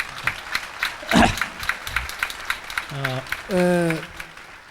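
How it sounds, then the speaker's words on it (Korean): An audience at a 1997 university student gathering claps in thanks for two invited speakers, a scattered run of claps, with someone speaking over the tail end. "다시 한번 감사의 박수를 부탁드립니다."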